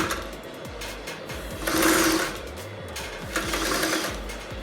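A Two Lion TL-335A sewing machine running a back stitch chatters in rapid mechanical bursts, close and fairly loud, speeding up in two short runs with ticking in between.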